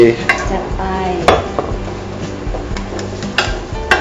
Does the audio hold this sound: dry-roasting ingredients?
yes